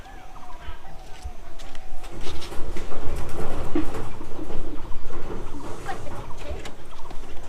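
Soft pigeon cooing and fluttering as a pigeon is taken from its coop to a cage, amid rustling and scratching noises close by, with a steady background murmur throughout.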